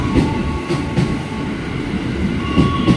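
KRL CommuterLine commuter train at Cilebut station in Bogor, a steady near rumble of rail wagons rolling past with faint rhythmic wheel clatter throughout, no talking.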